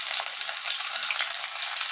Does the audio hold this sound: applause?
no